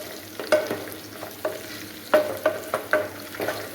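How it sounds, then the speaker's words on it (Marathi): Whole chillies are stirred into hot oil for khade masala chicken, giving a faint sizzle under a few distinct spoon scrapes and taps against the pan, with no talking. "आता मी हे तेलात मिक्स करते"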